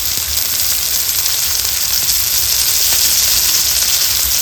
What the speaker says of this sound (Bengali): আর একটু মশলাটাকে কষাবো টমেটো গলা পর্যন্ত।